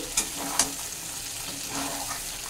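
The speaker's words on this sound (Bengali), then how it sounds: "আমের টুকরোগুলো তেলে বেশ সুন্দর সিদ্ধ হয়ে যাচ্ছে। এটাকে আমি মাঝে মাঝে একটু একটু করে নেড়ে দিচ্ছি।" Mango pieces for a sweet and sour pickle cook in hot oil, giving a steady fine sizzle throughout, with two sharp scrape-clicks early on as a spoon stirs them.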